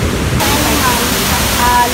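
Steady broadband rush of water pouring down a waterfall that feeds natural swimming pools among shady trees, constant and close with no clear voices over it.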